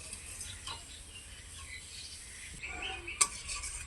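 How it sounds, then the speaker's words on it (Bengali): Onion and turmeric fry in a pan for masoor dal with a soft, steady background sizzle, then one sharp metallic clink near the end. No one speaks. "পেঁয়াজের সঙ্গে হলুদটাকে আরও কিছুক্ষণ 2 মিনিট ভেজে নেব।"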